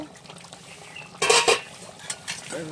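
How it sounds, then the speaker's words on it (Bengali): A metal lid comes off a pot of simmering fish-head muri ghonto with a couple of sharp, close clanks, then quieter rattles over a faint background bubble. "এখন ঢাকনিটা তুলে নেব।"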